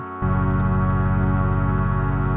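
An Arturia PolyBrute synthesizer through its Steiner-Parker filter: a thick, sustained tone kicks in abruptly, rich in stacked harmonics with a subtle pulsing texture, holding steady and loud.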